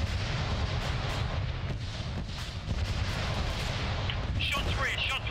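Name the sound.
artillery fire landing nearby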